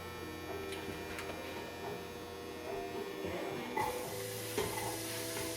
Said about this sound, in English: Do you hear that nice sizzle of the peppers?